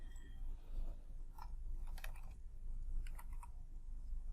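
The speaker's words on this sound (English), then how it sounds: "press the delete button from your keyboard" Someone pressing keys, including the delete key, on a computer keyboard while clearing spreadsheet cells, a handful of soft, close clicks spread unevenly over a quiet room hum.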